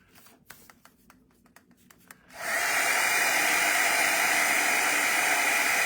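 Quiet handling and a few taps, then a heat tool switches on and blows a loud, steady rushing whoosh for the rest of the time while heating a mixed-media craft project.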